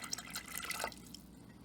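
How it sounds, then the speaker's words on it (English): Water splashes and trickles steadily into a pot for clove candy for about a second, then tapers off to a quiet kitchen hum. "Here's 3/4 cups of water."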